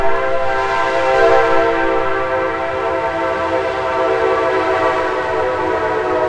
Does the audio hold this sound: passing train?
yes